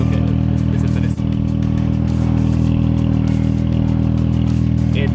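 An Audi TT engine idles loudly with a deep, rumbling aftermarket exhaust, steady throughout with a brief dip near the start, close by.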